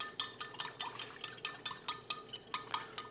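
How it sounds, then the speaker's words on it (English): Instant yeast being stirred into sugar water, a steady rhythm of light clinking strokes against a bowl, about a dozen quick taps, close and soft with no speech. "And then I'm gonna mix in our instant yeast."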